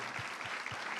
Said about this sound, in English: let's just give one final round of applause for the governor